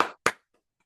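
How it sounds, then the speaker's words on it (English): Two sharp hand claps close by in a quiet statistics classroom, a lone person clapping briefly rather than a full round of applause. "Let's give all of you guys a round of applause"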